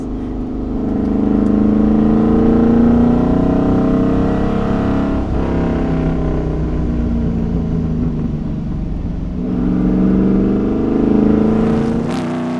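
Shelby V8-powered Sunbeam Tiger rally car engine roaring loud and close, revving up and holding, easing briefly, then surging again in a deep, thunderous drone.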